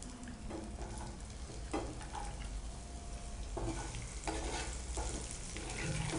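Urad dal, chana dal and chopped onion fry in a pan with a steady close sizzle, broken by a few stirring scrapes, with no talking.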